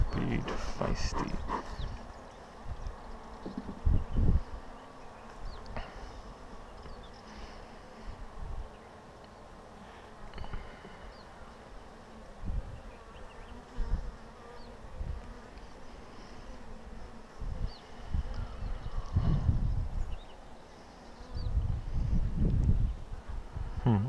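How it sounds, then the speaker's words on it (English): Honey bees drone and whine around an open garden hive during an inspection, a close, fluctuating buzz that swells and fades as they fly past, with a person speaking quietly at times. "The bees are a bit feisty."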